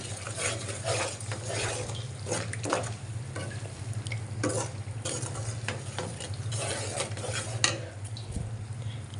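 Drumstick chutney ingredients stirred together in a pan, a steady scraping and mixing texture over a low hum, with soft sizzling and small drips throughout and no talking.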